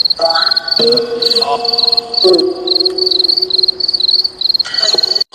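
Crickets chirp steadily at night in a village cemetery in the Bridgewater Triangle, a high rhythmic trill running throughout, with people talking over it.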